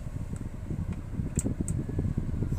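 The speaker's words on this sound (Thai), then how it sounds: "ตอนนี้ก็จะมาทดลองระบบแอร์ครับ หลังจากที่เปลี่ยนฟิวเรียบร้อยแล้ว" A car's air conditioning fan running after a blown AC fuse is replaced, giving a steady whooshing roar with a few faint clicks, close and continuous.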